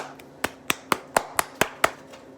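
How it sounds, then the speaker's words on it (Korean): Glitter-covered hands clap seven times in an even, steady rhythm, each clap sharp, close and alone with no voices. "박수 치니까 제 손에 있는 반짝이 날아가요"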